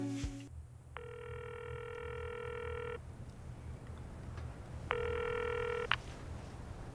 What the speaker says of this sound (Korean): 전화가 오네요